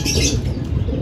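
Racing pigeons arrive at their loft with a close, loud burst of flapping wings, rapid fluttering beats filling the brief moment.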